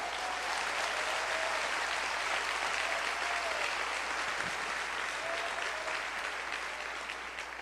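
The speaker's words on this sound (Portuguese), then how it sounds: "Você pode aplaudir o Senhor?" A church congregation applauds continuously at a quiet, even level, the dense clapping holding steady throughout and thinning slightly near the end.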